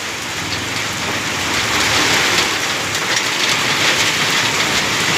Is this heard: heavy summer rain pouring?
yes